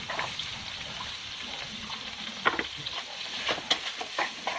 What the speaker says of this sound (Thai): ผัดหอมกับน้ำมันแล้วก็เนยนะคะ ผัดให้หอมสีใสๆเลยค่ะ